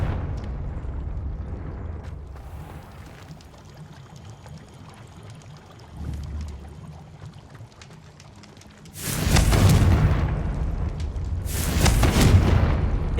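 Confringo fire spell in Hogwarts Legacy, a low rumble followed by two loud, broad fiery blasts with roaring crackle, the second arriving a couple of seconds after the first.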